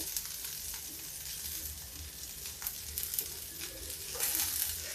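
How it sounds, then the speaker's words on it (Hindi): Boiled potato and capsicum dry frying in a pan without oil or spices give a steady, soft sizzle with faint crackles and the occasional stirring scrape, close and continuous. "आलू और शिमला मिर्च ऐसे ही सूखा फ्राई कर देंगे"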